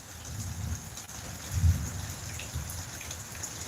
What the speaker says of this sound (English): Yes, as the rain start falling again. Not as hard as the first time, but I also hear a little thunder.